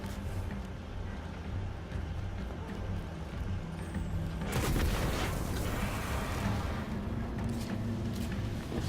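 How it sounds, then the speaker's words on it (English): Explosions in a video game burst in loudly at about four and a half seconds, a broad rumbling blast with crackling debris that lingers over steady low game ambience and engine-like drone. "Yay, explosions."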